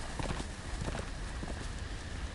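Horse hooves clip-clop at a gallop along the King's Road in the Telltale Game of Thrones game, a quick, steady rhythm at moderate distance with no talk over it.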